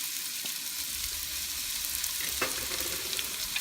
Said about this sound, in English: put some olive oil, put our onions